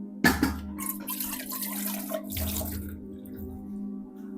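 Tap water running and splashing into a milk vessel during dishwashing in a home kitchen, a steady close stream with a sharp clatter at the start and shifting splashes throughout, no talking.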